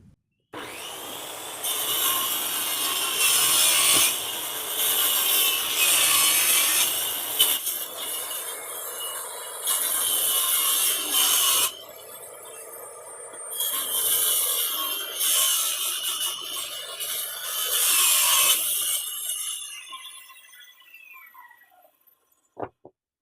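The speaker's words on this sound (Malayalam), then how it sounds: "അപ്പോൾ നമ്മൾ 3/4 ഇഞ്ച് ഇട്ട് കട്ട് ചെയ്യാണ്." Hand saw cutting an 8-inch-wide wooden plank to size for a bee box, a loud rasping back-and-forth stroke in several long bursts with brief pauses, ending in quiet.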